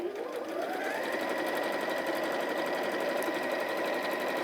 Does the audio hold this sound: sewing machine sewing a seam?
yes